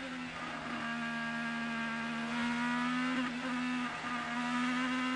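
IndyCar race car engines during the last laps of the 2018 Detroit Grand Prix, a steady high-pitched engine whine with a rising throttle note, heard from a distance under continuous noise.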